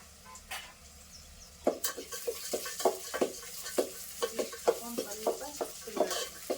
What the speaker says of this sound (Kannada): ಒಂದು ಎರಡು ಚಮಚ ತೊಗರಿ ಬೇಳೆ ಒಂದು ಚಮಚ ಉದ್ದಿನ ಬೇಳೆ ಒಂದು ಸ್ವಲ್ಪ ಇದು ಹಾಕೊಂಡಿನ್ರಿ ಏನಂತಾರೆ ಶೇಂಗಾ ಬೀಜ ಮತ್ತು ಕೊರಿಬೇವು ಸೊಪ್ಪು